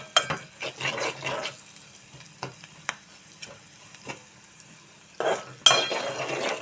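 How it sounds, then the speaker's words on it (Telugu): Onions frying in a pan for an okra curry, a quiet sizzle broken by several sharp clinks and scrapes of a spoon stirring, louder bursts near the end. "బాగా వేగనిద్దామండి. చూసారా, ఇవన్నీ బాగా వేగిపోయాయండి."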